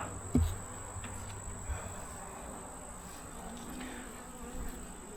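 A weak honeybee hive opened to show brood, with a faint, steady insect hum under a high steady tone, plus a soft knock near the start and low rustling, and no talking.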